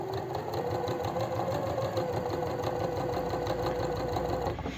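A sewing machine stitches a plus-size summer dress, running steadily and close with a fast, even mechanical rhythm of needle strokes and a faint whir throughout.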